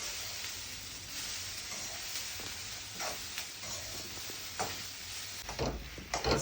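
Gongura flowers frying in oil, a faint steady sizzle with intermittent stirring scrapes and a few louder clatters near the end.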